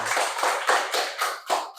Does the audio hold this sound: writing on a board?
no